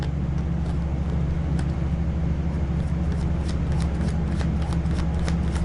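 Tarot cards are shuffled continuously, a dense riffling patter with sharp flicks over a steady low rumble resembling traffic, held at a constant loud level throughout.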